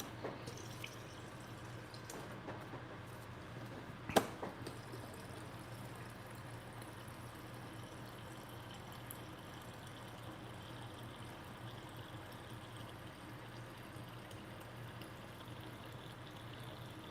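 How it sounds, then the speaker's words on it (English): Water runs steadily into a pitcher of tea in a home kitchen, a faint, continuous pour with a single sharp clink partway through. "Some more water in the tea here."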